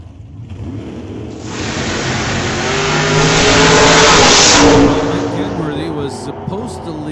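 A 1967 Nova drag car launches at an old-time drag race, its engine roaring up loudly and holding a hard howl before fading as it pulls away, with announcer talk underneath.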